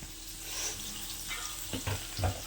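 Thinly sliced onions fry in oil for a chicken gravy with a soft, fairly quiet sizzle. Brief stirring scrapes and clinks of a spoon against the pan come in toward the end.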